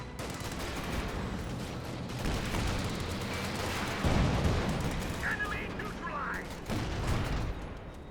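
Artillery barrage and battlefield fire in a Company of Heroes match, a dense continuous rumble of blasts and shots with a heavier impact midway and scattered crackling after, under commentary.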